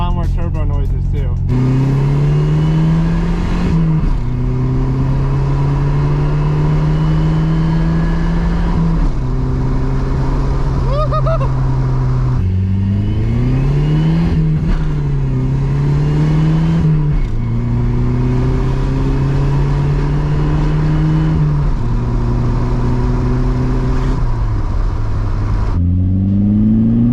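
A turbocharged budget project car, a $2,500 daily-driver build with its boost turned up, pulls hard through repeated rising gear runs. The engine drone climbs and drops with each shift, loud and steady from inside the cabin.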